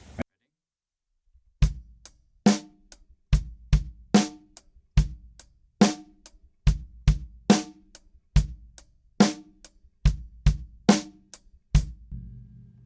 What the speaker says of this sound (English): just do kick, snare, and hats, snares being the backbeats on 2 and 4